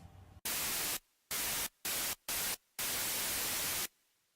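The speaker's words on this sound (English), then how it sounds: "Plus you've got a noise generator." Bursts of harsh white noise from a synthesizer noise generator switch on and off in a rhythmic pattern, five chunks of varying length separated by short silences.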